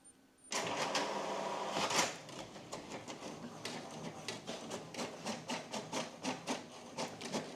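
An HP DeskJet 2721 inkjet printer runs off a test page, starting with a whir of paper feed, then a quiet, regular train of mechanical clicks and ticks as the print head shuttles back and forth.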